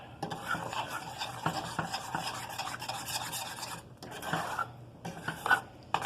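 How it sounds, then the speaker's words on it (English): Homemade playdough being stirred in a pan gives a continuous scraping, rubbing sound with uneven strokes and a few brief pauses, close and moderately loud, with no talking. "stirring until it starts to kind of get solid and stick to the walls of the pan."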